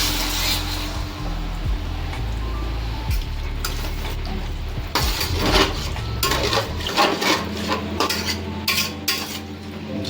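Mutton curry stirred in a pot in a village kitchen, with a spoon scraping and clinking against the metal in irregular strokes, close and fairly loud, over a low background rumble.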